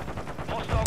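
Rapid automatic gunfire in the Call of Duty: Modern Warfare multiplayer map Shipment crackles briefly, ending in a loud, close shot.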